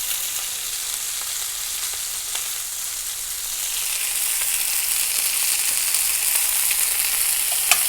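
Seared chicken hash sizzles and fries steadily in a cast iron pan, a bright crackling hiss that builds slightly louder, with occasional faint stirring scrapes and no talk.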